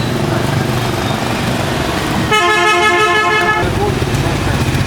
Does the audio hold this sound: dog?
no